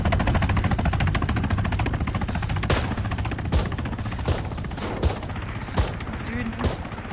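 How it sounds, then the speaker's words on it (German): Rapid bursts of automatic gunfire in the video game Escape from Tarkov rattle continuously, with several louder single shots cracking out over the steady fire. "Ich hab nur gemerkt, dass von da Schüsse kommen."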